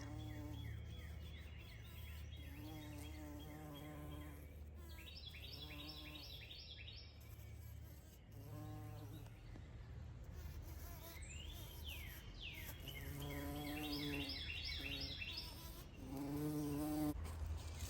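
A bee buzzes around flowers in a garden bed, its drone rising and fading in repeated passes, with occasional bird chirps in the background and no talking.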